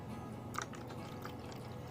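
Fabric conditioner poured into the detergent drawer of a front-load washing machine gives a soft, continuous liquid trickle with faint drips, low and steady throughout.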